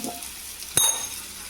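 Pieces of catla fish fry in plenty of oil on a dosa griddle, giving a steady close sizzle with one sharp metallic clink partway through and no talking.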